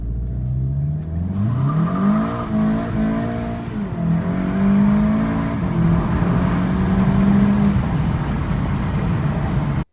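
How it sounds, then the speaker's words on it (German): Red 2019 Golf GTI TCR, 290 hp, in a parking lot, its engine loud and close as it idles, then revs up and holds a rising, wavering tone, with no voices over it. "Golf GTI TCR 290 PS Tornado Rot Sonderedition"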